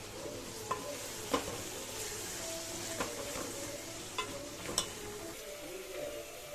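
Onions frying with ginger garlic paste and turmeric for Telangana egg pulusu are stirred in a pan, a low steady sizzle broken by regular spoon scrapes and taps against the metal.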